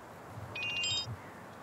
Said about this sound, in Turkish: Bir alttan sürekli bir telefon çalıyor.